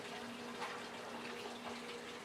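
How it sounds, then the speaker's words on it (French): A small waterfall splashes steadily in a quiet indoor venue in Denver, a constant broadband rush of falling water with no other sounds over it. "Il y a une petite cascade."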